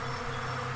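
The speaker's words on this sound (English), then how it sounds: "we're seeing the bees, of course, zipping into the hive and doing their thing." Steady buzzing from many honey bees around a hive, a continuous low drone with no pauses, fairly close and moderately loud.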